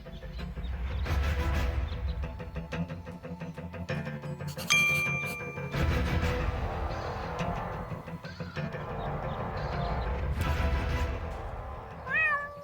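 A cat meows repeatedly in the Deponia point-and-click adventure game, the plaintive cries rising over game music and chimes, with a few pauses between calls.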